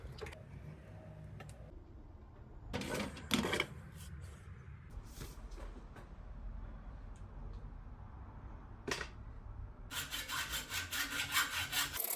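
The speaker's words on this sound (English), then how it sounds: "So now it's time to cut the steerer tube." A hacksaw cuts the steerer tube of a DVO Diamond D1 mountain bike fork on a Cannondale Moterra eMTB, first in scattered short strokes, then in quick rhythmic back-and-forth rasping near the end, close and fairly quiet.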